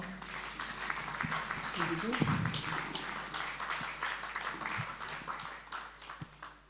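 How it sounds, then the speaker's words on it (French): An audience at a couples gala applauds, moderately distant clapping rising and thinning over several seconds, mixed with a few thumps and crowd murmur. "Je vous demande d'applaudir encore une fois."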